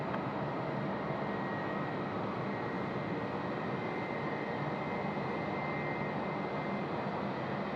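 A Qantas airliner lands at Sydney Airport on runway 34 left, its engines making a steady, broad roar that holds evenly throughout with no voices.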